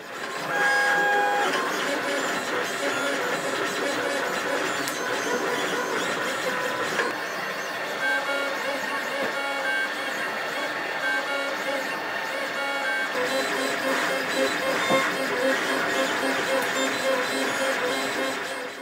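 A 3D printer prints cosplay armour parts for an Alien Xenomorph costume, giving a steady layer of whirring stepper-motor tones and buzzing that runs continuously throughout at a constant level, with no talk.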